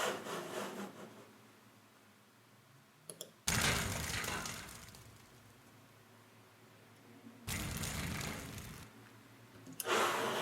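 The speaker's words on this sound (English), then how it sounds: "So I just, you know, lit a fire and just recorded it really close up, and it really made a nice sound." A fire in a coal stove recorded close up. Loud bursts of rough, crackling rush come in separate surges between quieter, low rumbling stretches.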